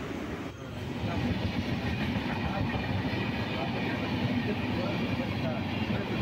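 Steady rumble and rattling of the Ananthapuri Superfast Express running on its way to Thiruvananthapuram Central, heard from inside the moving train as a continuous broad roar with faint rhythmic clatter.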